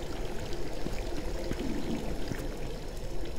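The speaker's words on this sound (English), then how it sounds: "I hear running water though." Steady running water rushing through the tunnels in the video game INFRA, a continuous close pour-like stream with no pauses.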